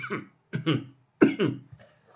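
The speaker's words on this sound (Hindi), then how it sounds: "खांसी हो रही है मुझे" Several harsh coughs in close succession, near and fairly loud, in short bursts with brief pauses between them and no speech.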